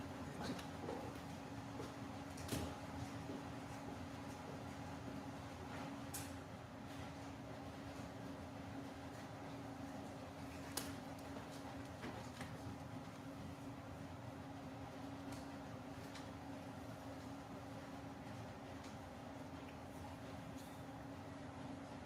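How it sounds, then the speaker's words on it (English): An indoor air conditioner runs as a loud, constant droning hum with a steady low tone, filling the room continuously for over twenty seconds, with a few faint clicks and knocks over it. "we should turn down the air conditioner so it's not so loud"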